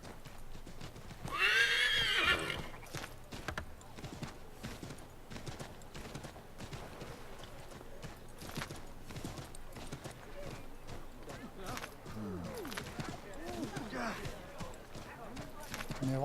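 Horse in Assassin's Creed III gives a loud, close whinny near the start, with steady clip-clop of hooves running underneath for the rest, joined by background game sounds and someone talking.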